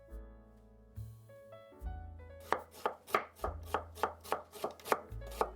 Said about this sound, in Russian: Лук режу полукольцами.